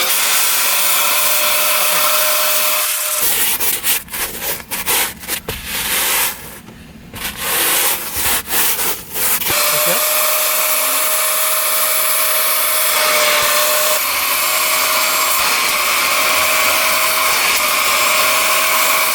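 Upholstery extractor cleaning car seats, a loud steady suction whine running almost throughout, broken for a few seconds by rough brushing and scrubbing before the constant sucking drone returns.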